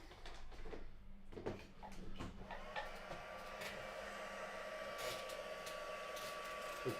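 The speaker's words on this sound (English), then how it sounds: "so got the heat gun on now" A crafting heat gun blows steadily after a few handling knocks and clicks, its even airy whir holding at a moderate level close by.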